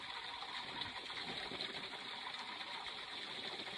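Homemade pump-driven water aerator running, a steady faint hiss of bubbling and gushing water with a constant mechanical pump hum beneath, no talk.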